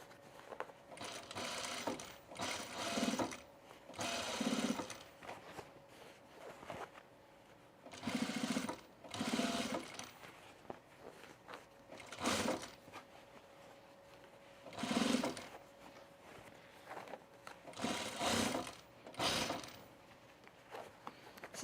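Sewing machine edge stitching along a pair of overalls, running in repeated short bursts of stitching separated by pauses, fairly close and alone without talk.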